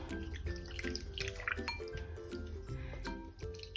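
Soapy water being stirred in a basin to clean espadrilles with canvas uppers and jute soles, a close, continuous sloshing and swirling of liquid with small drips and splashes throughout.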